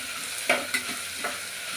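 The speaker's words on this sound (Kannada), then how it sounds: "ಇವಾಗ ನೋಡಿ ಈರುಳ್ಳಿ ಕುಯ್ತಾ ಇದೆ" Onions sizzle and fry in a pan for home-style chicken biryani, a steady soft hiss with a few brief stirring clicks and scrapes, close and fairly quiet, with no voices.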